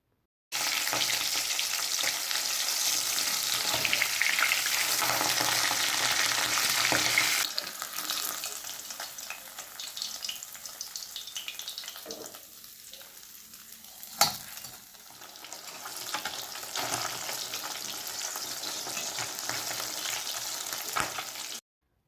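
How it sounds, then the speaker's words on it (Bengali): Pabda fish frying in hot oil in a wok, a steady loud sizzle that dips as the fish are turned, with a sharp clink from a utensil midway, then the crackling frying builds again. "মাছগুলোকে ভালো করে উল্টে পাল্টে দুপাশে ভেজে নেবো"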